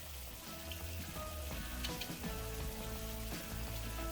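Yakisoba marinade and cornstarch mixture sizzle in a hot pan, a soft steady crackling hiss with faint pops, quiet and continuous with no voices.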